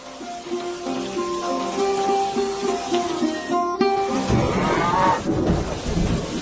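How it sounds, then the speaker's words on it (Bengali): Heavy rain pours down steadily through a storm, with thunder rumbling under the downpour; a musical tone fades out before the rain swells louder and denser toward the end. "বৃষ্টি আরো জোরে নামতে পারে।"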